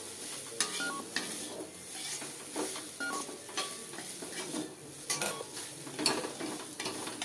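Paruppu podi rice being stirred and mixed together, the utensil making repeated soft scraping and clinking strokes against the vessel, close and moderately loud with no talking.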